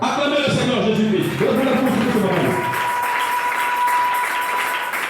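Church congregation applauding, a dense sustained wash of clapping under a preacher's voice that continues throughout, with a steady tone emerging in the latter half.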